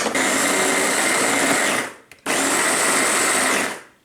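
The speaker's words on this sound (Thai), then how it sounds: "ทีนี้เราก็ทำการปั่นเขาเลยค่ะ ปั่นเขาเลยนะคะ" An electric blender whirs loudly up close as it blends sauce ingredients with warm water, in two bursts of steady high-pitched grinding separated by a brief stop.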